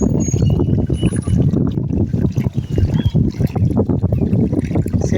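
Oil pours into an emptied transformer tank in a continuous, rough, gurgling rush of liquid that stays fairly loud and close, with voices faintly mixed in.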